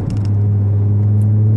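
Audi RS SUV engine rumbling steadily while driving, a loud, continuous low drone with a faint brief chirp near the end and no talk over it.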